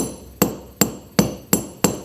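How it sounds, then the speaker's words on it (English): A flat hammer strikes a textured metal jewelry blank five times at a steady, even pace, each blow a sharp, close metallic tap that rings briefly before the next. "And then I'm going to take a flat hammer next."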